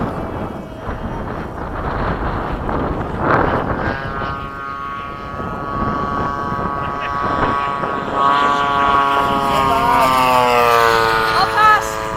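A small UMX MiG-15 model jet makes a low pass, its thin electric whine rising in pitch and swelling as it nears, over rough outdoor wind noise at a flying field.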